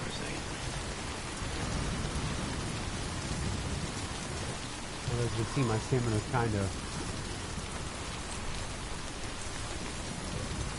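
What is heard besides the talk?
rain falling with thunder in the video game Death Stranding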